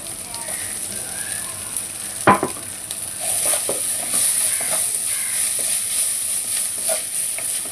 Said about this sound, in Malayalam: അതിൽ നമ്മുടെ സവാളയും പച്ചമുളകും നല്ലോണം വഴറ്റാം.